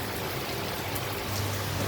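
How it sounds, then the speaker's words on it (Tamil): Heavy rain pours steadily in Maduravoyal, Chennai, during a windy downpour, a dense, even hiss of drops hitting surfaces close by that fills the whole stretch without pause. "2 நாள் அடித்த வெயிலுக்கு இன்றைக்கி பிடிக்குது பாருங்கள் மழை, சரி போடுது."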